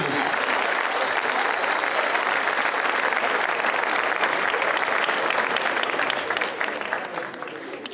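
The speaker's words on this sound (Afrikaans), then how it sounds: "kan ons daarvoor 'n lekker hande klap gee." A high school audience at a staff ceremony gives a hearty round of applause, a thick, steady wash of clapping that holds strongly for several seconds before tapering off at the end.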